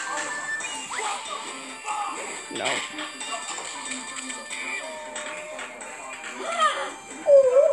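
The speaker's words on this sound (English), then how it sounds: "because I know that puppy got hurt." A hurt puppy whimpers with faint, high whines among noisy background clatter, louder near the end, while people talk nearby.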